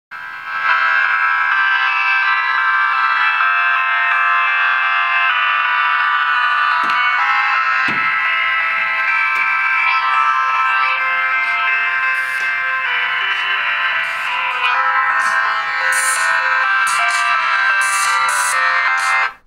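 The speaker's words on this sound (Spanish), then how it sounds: "quiero que escuchéis cómo reproduce el sonido el altavoz trasero de este teléfono" A ringtone melody playing through the rear loudspeaker of a UMI ZERO Android phone, steady and tinny, with a few faint clicks and taps partway through.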